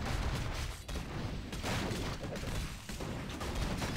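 Dense, continuous crackling blasts and booms of units exploding in a Warcraft III match, a steady loud barrage of overlapping bursts with no pauses.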